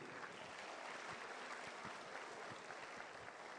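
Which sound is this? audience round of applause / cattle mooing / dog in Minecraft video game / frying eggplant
audience round of applause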